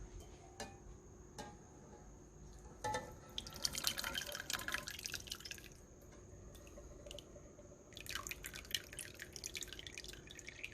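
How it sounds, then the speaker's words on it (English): Thick pumpkin spice syrup being poured through a strainer: close, quiet wet drips at first, then two stretches of trickling liquid, with faint background noise. "So let's go ahead and strain this mixture now."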